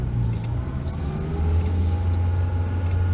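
A Peugeot 204 engine revs hard in first gear, its drone climbing steadily and loud up close from inside the car, with no talk over it.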